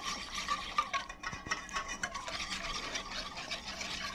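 Ingredients for a Thai napa cabbage slaw are stirred and tossed together in a bowl, giving a steady close scraping and rustling with light clinks of a utensil throughout.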